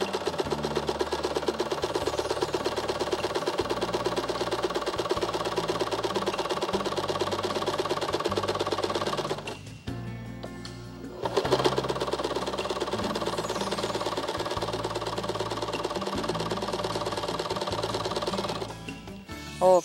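A domestic sewing machine stitching a crossbar door project in steady rapid bursts, pausing briefly midway before resuming at a close, even, loud pace.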